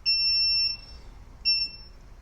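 A multimeter in resistance mode gives two high, piercing continuity beeps as a TV lift box remote's button is pressed, the first long, the second shorter, clear over a faint quiet background.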